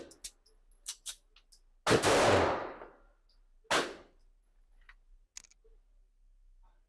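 A handgun fires at an indoor range: a few quick clicks, then two loud echoing shots a couple of seconds apart, followed by quiet clicks and handling noises as the gun jams; no voices.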